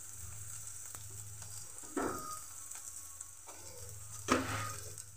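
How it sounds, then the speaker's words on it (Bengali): Onion and garlic fry with turmeric and salt in a pan, a steady sizzle running throughout with two louder bursts of spitting as things are stirred. "দেখো পেঁয়াজ রসুনটা কিন্তু ভাজা হয়ে আসছে প্রায়"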